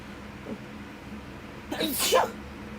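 One loud, sharp human sneeze bursts out nearby after a moment of quiet room tone, with a faint vocal sound just before it.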